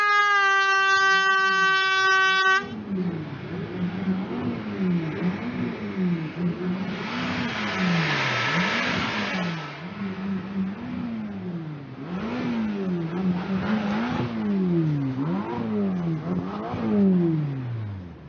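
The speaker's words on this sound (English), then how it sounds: "it then makes a distinctive crackling sound of the nitro-fueled engine" A nitro-fueled racing engine at Goodwood SpeedWeek 2020 revs in repeated rising and falling surges with crackling bursts, loud and close after a brief steady tone at the start.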